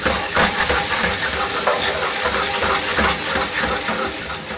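Leeks in a pan on low heat sizzle and hiss steadily as a splash of white wine goes in, a close, continuous broadband hiss lasting several seconds with no talking.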